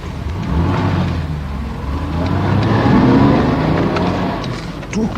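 A car speeds away on the road, its engine rising and swelling loudly as it accelerates, rumbling low and close before easing slightly toward the end.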